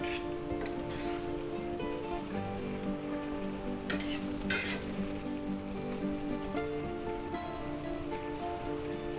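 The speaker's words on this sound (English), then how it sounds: "let that cook for maybe 5 minutes until the vegetables soften just a little bit" Vegetables stir frying in a hot pan for a spicy beef and mushroom stir fry give off a steady, dense sizzling hiss that runs unbroken from start to finish, with a few brief crackles rising above it.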